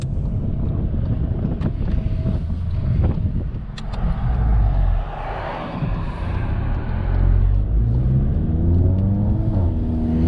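A Volkswagen MK7 GTI with a stock catback exhaust and Stage 2 tune drones and rises as the engine revs under load, mixed with wind buffeting, steady and fairly loud throughout.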